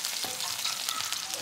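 Oil left over from frying hotdogs sizzles quietly in a pan as a sauté begins, a soft, crackling frying sound with light stirring, close but faint.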